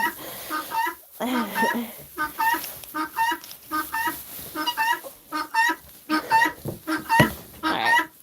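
Chickens cluck and squawk inside a coop in a rapid, busy series of close calls, bursts rising and falling throughout with brief gaps between them.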